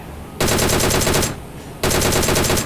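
Two long bursts of DP machine gun fire in PUBG Mobile, loud and close, each lasting about a second, split by a short pause.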